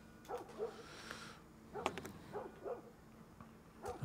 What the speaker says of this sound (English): Where's the dog barking for?